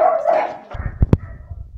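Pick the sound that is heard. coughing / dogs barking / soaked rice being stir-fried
dogs barking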